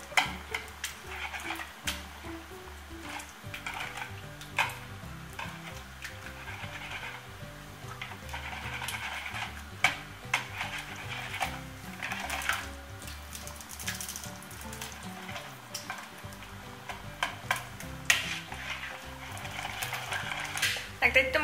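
Quark cheesecake mixture for a Lotus biscuit cheesecake being whisked in a home kitchen, giving a steady, busy scraping whir that runs throughout at moderate level, with a low, even background underneath.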